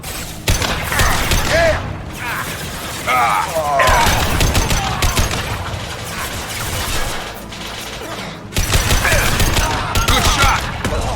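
Impact shot gunfire in the video game Mass Effect 2 comes as bursts of rapid, crackling shots with mechanical clanks, loud and close, broken by short lulls, while a voice shouts briefly.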